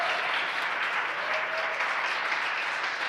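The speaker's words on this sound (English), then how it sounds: "You hear the applause here in Hawthorne." Sustained applause from a crowd at SpaceX Hawthorne after Falcon 9 second-stage orbit insertion, with the crew launch reaching orbit; a steady, dense wash of clapping at moderate level, with no voices rising above it.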